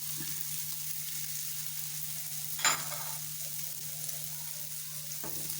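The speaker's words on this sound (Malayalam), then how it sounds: "ഇനി നമുക്കതിലേക്ക് ഉരുളക്കിഴങ്ങ് ചേർത്ത് കൊടുക്കാം." Potatoes hit sautéed onions in a pan for a mushroom cutlet filling, setting off a steady close sizzle, with a sharp stirring scrape midway and another near the end.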